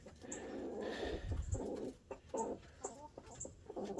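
A backyard flock of Rhode Island Red hens and a rooster cluck softly at night, with faint, irregular, close-by clucks and murmurs.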